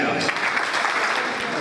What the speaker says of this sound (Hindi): हम बजाएं तालियां।